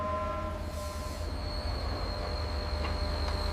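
A train being towed into a station yard gives off a steady, heavy low rumble of rolling wagons with a faint sustained metallic whine on top, continuous and fairly close throughout.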